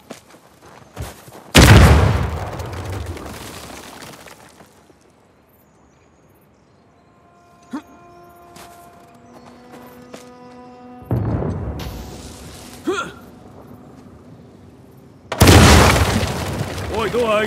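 Dynamite blasts in Uncharted 4 game audio: three loud broadband bursts, one near the start, one in the middle and a heavy one near the end, separated by quieter ambient passages with faint tonal music.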